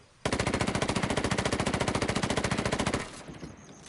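A rapid, even burst of SMG fire in Ghost Recon Wildlands, about three seconds of loud, tightly spaced shots that stops abruptly and leaves a fading echo.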